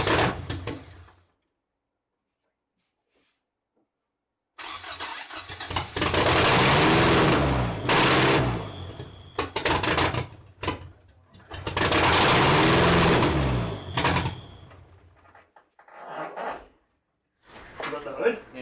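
Toyota 2RZ engine in a 1993 pickup 4x4 starting for the first time: after a silent pause, two loud bursts of cranking and rough engine noise come up close, with voices nearby.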